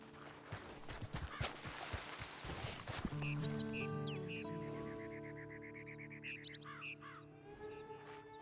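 Horse hooves clip-clop in the video game Red Dead Online, a run of quick clattering hoofbeats in the first few seconds before they give way to held tones and distant animal calls.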